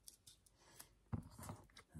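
Scissors cutting paper at a craft table for a Halloween project, a few soft close snips and rustles in a brief, quiet moment.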